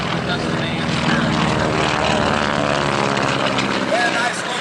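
Propeller aircraft flying at an air show, a loud continuous engine drone with a steady throb, close and sustained, with an announcer talking over it.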